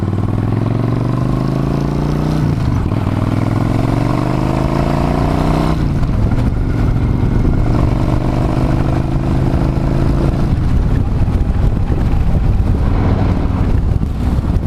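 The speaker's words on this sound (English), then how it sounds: "Can't believe I just stalled my bike out in the middle of Victory Drive." A motorcycle on Victory Drive pulls away after stalling, its engine revving up through the gears with audible shifts, heavy wind buffeting the microphone close by.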